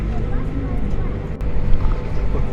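A boat pulls away from a pier on a large lake in England, a steady low engine rumble with wind noise on the microphone, continuous and close throughout.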